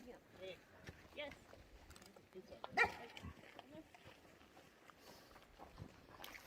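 Faint dogs barking at a distance on the Arizona Trail, a few scattered barks with muffled voices in the background.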